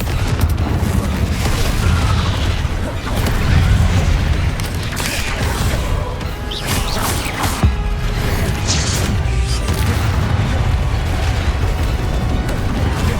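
Confringo blasting spells explode in Hogwarts Legacy, a wizarding video game: heavy, continuous booming blasts fill the whole stretch, loud and close, with crackling bursts layered over a dense rumble.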